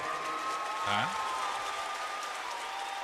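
Steady applause from a crowd fills the whole stretch, a dense wash of clapping with a brief voice rising above it near the start.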